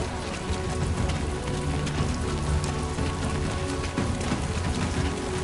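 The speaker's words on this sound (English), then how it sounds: "Great. Rain. Gotta move." Steady rain pours down in the video game Death Stranding 2, a dense, constant hiss of drops on surfaces, with low rumbling music or ambience beneath and no clear talk.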